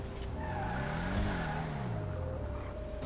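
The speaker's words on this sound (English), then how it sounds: "you can actually bring your car and drive directly into this garage right here" A car in GTA Online drives with a steady engine drone and a sweeping tire squeal, loud and close, as it pulls into a garage, with no talking.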